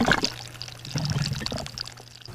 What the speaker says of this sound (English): it vortexes and then it siphons, and it will siphon all the water down